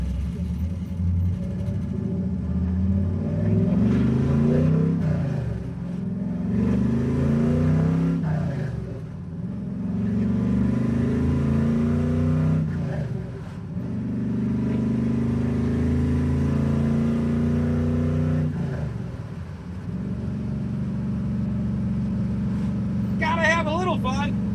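A 502 big-block 1968 Chevrolet Chevelle with open exhaust cutouts rumbles loudly and revs in repeated swells, with a deep, throaty exhaust roar that rises and falls continuously.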